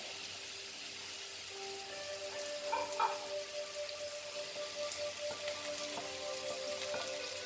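Tomatoes go into a hot pan while cooking rajma, giving a soft, steady sizzle and crackle close by, with faint clinks partway through and no talking.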